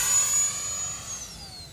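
An E-Flite UMX F-86 Sabre model jet with a 30mm electric ducted fan takes off, its high whine loud and steady, then slowly falling in pitch as it draws away.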